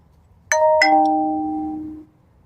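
A two-tone doorbell chime rings once, a bright ding followed by a lower dong that sustains and fades over about a second and a half, heard alone against a quiet room.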